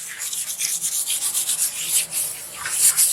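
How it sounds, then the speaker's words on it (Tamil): Emery paper rubbed lightly over a kitchen or bathroom surface to remove black marks, giving a steady run of soft, rhythmic abrasive strokes, close and fairly loud, with no talking. "இப்போ நான் சும்மா தேய்ச்சி எமரி சும்மா லைட்டாக போடுறேன் தேய்க்கிறதுக்காக"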